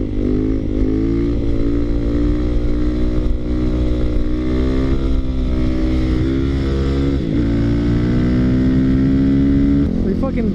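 A Yamaha WR450 dirt bike engine drones loud and close, holding a steady rising pitch with a couple of brief dips and shifts before climbing again near the end.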